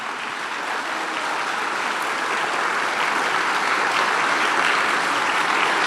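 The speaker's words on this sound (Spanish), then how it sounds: "Dale aplauso al Señor." A church congregation applauds to praise God during a sermon, a dense, steady wash of many hands clapping that holds loud and even throughout without pause.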